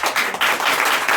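An audience at a panel discussion gives a brief burst of applause, dense and steady clapping filling the whole moment.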